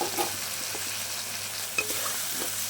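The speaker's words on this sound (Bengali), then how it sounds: "দিয়ে আমি ভালো করে আবার মশলাটাকে কষিয়ে নেব" Spice paste with green chillies stir-fries in hot oil for a jackfruit and chana dal dish, giving a steady close sizzle with occasional spatula scrapes and stirs throughout.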